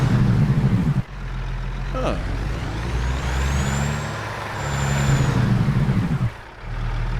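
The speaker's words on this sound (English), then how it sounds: "Let's see the Jake brake sounds real quick" A Peterbilt 387 truck in American Truck Simulator runs its Jake brake, a loud, steady, throaty engine rumble. The rumble starts, cuts off, resumes and swells, with an air-brake hiss and a faint high whine near the close and a brief murmured voice.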